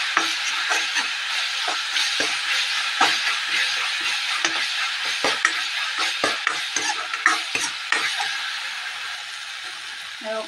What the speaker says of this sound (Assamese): অকণমান জিৰা গুড়ি দি দিছোঁ আৰু ফ্ৰাই কৰিম।